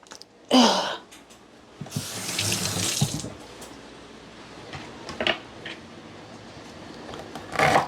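A kitchen tap gushes in short bursts while a cup is rinsed, with splashing water, clinks and handling noises in between, close and moderately loud, and no talk.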